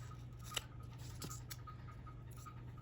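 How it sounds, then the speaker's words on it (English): Scissors snip through the edge of a thrifted paper quote card in a few faint, quiet cuts with soft crisp clicks against a low background hum. "I'm gonna cut this little edge off"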